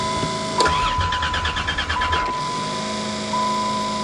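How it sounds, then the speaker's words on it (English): A caravan's motor is cold started, with a cranking whir and a brief rhythmic stutter before settling into a quieter steady hum, fairly close. "Sounds like there's a motor in behind there which I never heard before."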